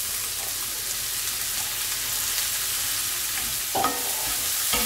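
Onion frying in butter in a pan for a lamb chop and cabbage stew gives a constant dense sizzle, close and even, with a couple of utensil knocks near the end and no talk.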